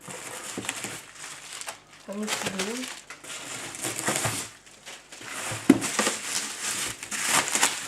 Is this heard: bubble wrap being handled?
yes